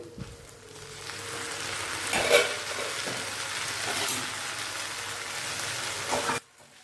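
Tomatoes hit a hot frying pan while egg tadka cooks, setting off a loud sizzle that swells, with a few stirring scrapes, then cuts off sharply near the end.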